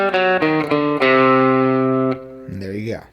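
Electric guitar with distortion and effects playing the double harmonic minor scale, also called the Hungarian minor scale, as a few sustained, ringing notes picked one after another, loud and close, ending with a bent note.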